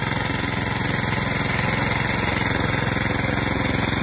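A tractor engine runs in a pomegranate orchard with a loud, close, steady drone and no variation or talk.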